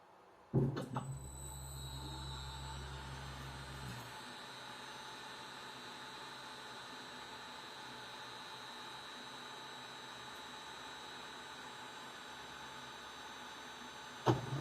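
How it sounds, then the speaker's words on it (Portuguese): A CNC milling machine runs a small LinuxCNC test file with short axis movements. A low motor rumble during the first few seconds gives way to a steady electrical whine and hum, faint and unbroken, with a brief clack at the end. "Eu vou botar esse arquivinho mesmo que vem do Linux CNC para rodar, só para a gente ver a máquina se movimentando."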